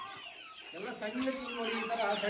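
Native country chickens on an organic farm cluck and murmur close by as they are fed chopped banana stem, a busy run of short calls rising in the second half.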